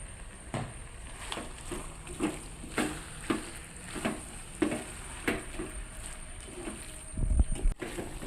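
Spoon scraping and stirring through Kerala-style beef roast with turmeric and black pepper powder in a pan, a series of sharp scrapes and clacks roughly every half second over a low background hiss, with a heavier clatter near the end.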